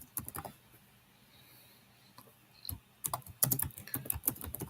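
Typing on a computer keyboard: quick, close, light key clicks in short bursts, a few isolated taps early on, then a denser flurry of keystrokes toward the end, with no voices over them.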